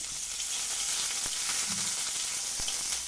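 Turmeric and ginger paste fry in a little hot oil, a steady, moderately quiet sizzle with a couple of sharp clicks from a spoon, no talking.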